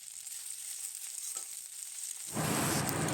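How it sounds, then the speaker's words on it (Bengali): Whole cumin, a dried chili, a bay leaf and grated ginger drop into hot oil for chana dal tempering. The pan bursts into a loud, steady sizzle partway through, after a quieter hiss. "তেল গরম হয়ে গেলে ফোড়নে ব্যবহার করছি গোটা জিরে, একটা শুকনো লঙ্কা, একটা তেজপাতা আর গ্রেট করা আদা।"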